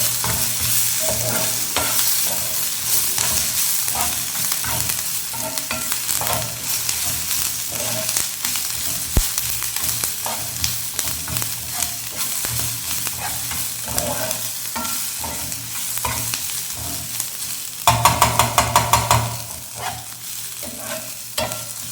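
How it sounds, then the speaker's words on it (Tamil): Green chillies sauté in hot oil in a pan for a potato dal curry, a steady close sizzle broken by repeated spatula scrapes and taps, with a louder burst of stirring clatter near the end; no talking. "பச்சை மிளகா ஒரு 2 நிமிஷம் வதங்கிட்டோம் அப்படியே எண்ணெயில்."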